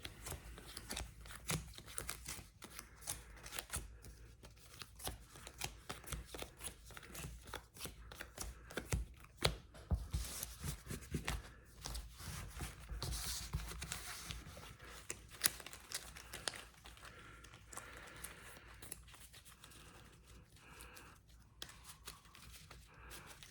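Magic: The Gathering cards being shuffled and riffled close by for a long stretch, a continuous soft flutter with occasional sharper snaps and crinkles.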